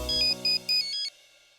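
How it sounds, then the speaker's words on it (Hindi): A telephone ringtone chimes in three short bright bursts, then cuts off as a call is placed, alone with no voices. "जा प्रज्ञा को फोन लगा और पूछ की वो क्या है"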